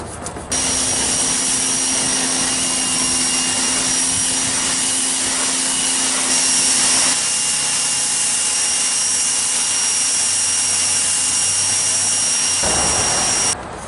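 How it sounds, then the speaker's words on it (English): A pressure washer cleans a grimy, algae-covered trailer in humid Louisiana, its loud steady hiss and motor whine running continuously for about twelve seconds before cutting off abruptly. "pressure washer and I went ahead and started cleaning everything"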